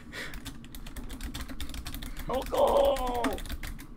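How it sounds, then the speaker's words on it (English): Rapid, furious typing on a computer keyboard, a dense patter of clicks running through the clip beneath a drunk man's speech, with Halo game audio playing in the background. "Who are you furiously typing to?"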